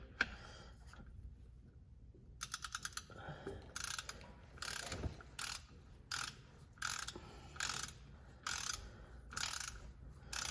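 Torque wrench ratcheting on the transmission drain bolt of a Nissan 350Z, set to 25 foot-pounds: short bursts of metallic ratchet clicks repeat in a steady rhythm, close and clear, with no talk.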